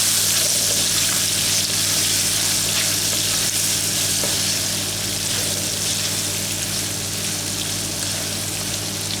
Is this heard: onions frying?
yes